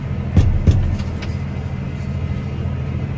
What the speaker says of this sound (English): We are in a John Deere 340 R Series tractor.